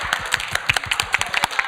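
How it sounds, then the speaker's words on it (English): A small audience applauds at a gallery discussion, with quick, scattered claps close by and no voices over them. "Let's give Dad a round of applause."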